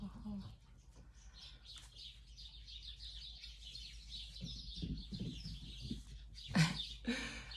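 Outdoor birds chirp and tweet in quick, scattered bursts throughout, fairly faint over a low steady background rumble, with a couple of louder calls near the end.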